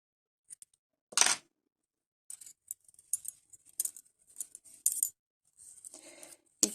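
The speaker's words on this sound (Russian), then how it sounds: "теперь обрезаю ниточку." Scissors snip knitting yarn once in a sharp, close cut, followed by small faint handling clicks and rustles.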